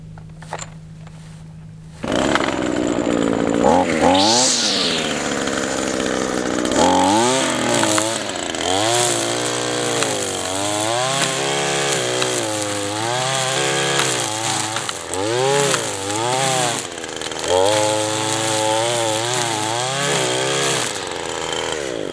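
A chainsaw trims overgrowth on a small farm, starting with a pull and then revving up and down repeatedly as it cuts; the engine is loud and close, and its pitch rises and falls throughout with no voices.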